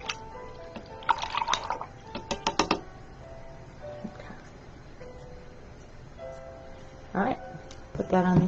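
A paintbrush is swished and dipped in water to rinse off paint, making brief splashy, dripping bursts separated by quieter stretches, with a voice speaking nearby.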